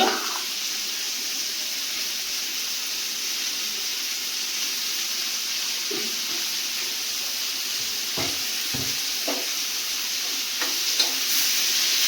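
Ginger garlic paste sizzles steadily in hot oil in a pan with onions for an onion chicken curry, a continuous close frying hiss with a few soft stirring clicks and scrapes toward the end.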